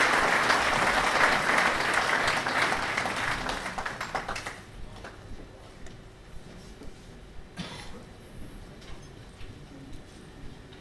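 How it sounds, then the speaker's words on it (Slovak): A crowd applauding the mayor of Vladiča as he comes on stage at a Village of the Year award ceremony in Budmerice, loud clapping that gradually thins to scattered claps. "Privítajte aj jeho potleskom."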